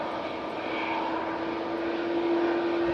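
A Canadian C-130 Hercules turboprop departing Manchester Airport in stormy weather, its steady propeller drone holding loud and constant with a sustained whine.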